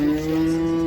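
A single close, loud, steady moo from a cow at a cattle market near Almaty, held for nearly a second with faint background noise.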